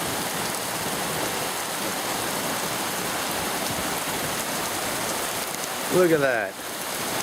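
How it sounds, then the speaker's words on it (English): Heavy summer storm rain pours down steadily in Perris, California, a dense constant hiss of downpour filling the scene throughout, with someone briefly speaking near the end. "Back to the downpour."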